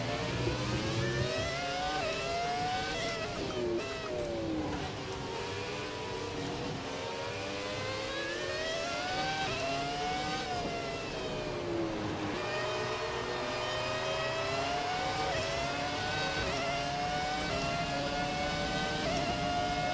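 A high-revving Formula 1 car engine in the video game F1 2017 whines continuously, pitch rising and dropping with each gear shift and corner, loud and close throughout.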